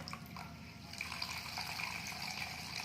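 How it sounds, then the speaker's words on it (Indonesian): Water is poured in to top up a container during an infection-prevention cleaning routine, a steady, close rushing and splashing that runs without a break for about three seconds, with no voices. "kurang, tambahkan airnya"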